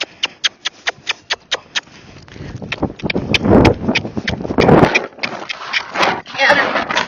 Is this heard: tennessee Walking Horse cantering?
yes